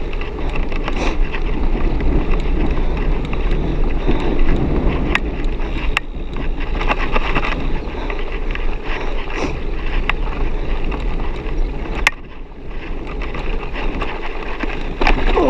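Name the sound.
wind while cycling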